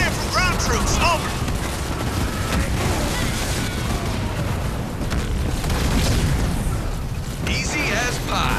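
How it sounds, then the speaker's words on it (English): Shells exploding amid heavy fire in the sci-fi strategy game Halo Wars 2, a loud continuous barrage of booms and gunfire with radio-style voices chattering over the battle. "Getting hit by shells over here!"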